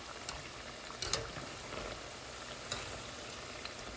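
Quiet, steady sizzling of banana-flower and chana dal fritters (vada) frying in oil, with a few soft pops and crackles against a constant hiss.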